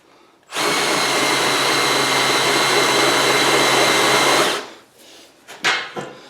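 Power drill running hard in reverse on low gear while modifying an XS650 motorcycle frame, one loud sustained whine of about four seconds that cuts off, followed by faint handling clatter.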